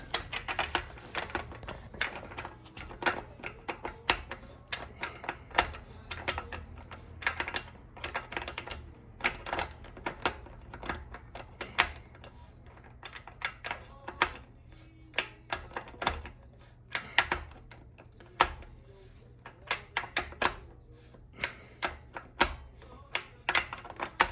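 Tightening a bicycle crank and bottom bracket with a tool, producing a steady stream of rapid metallic clicks and ratcheting ticks up close, fairly even in rhythm and without voices.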